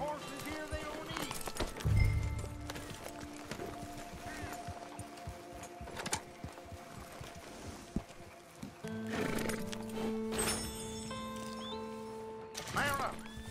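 Horses neighing and clip-clopping in the Red Dead Redemption 2 video game, several whinnies and scattered hoof steps in a busy outdoor scene with voices talking over them.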